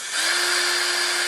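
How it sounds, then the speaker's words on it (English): A Ryobi power drill bores into wood for an Easter egg door hanger, giving a steady, loud, high motor whine that spins up quickly and holds an even pitch throughout, with no talking. "And I'm just using my Ryobi drill."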